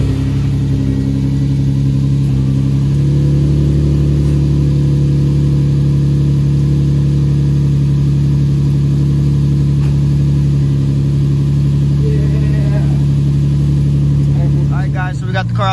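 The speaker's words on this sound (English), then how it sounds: "I'm gonna go ahead and turn it on, show you guys the first startup" A Nissan 350Z with a swapped engine runs steadily through its first startup, a loud continuous drone that holds close to the microphone, with faint talk underneath and a brief rev or change in pitch near the end.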